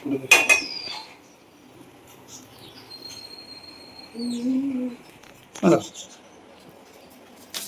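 A cooking pan and metal utensils clink and scrape in a few sharp bursts in a quiet kitchen, with brief faint pauses between.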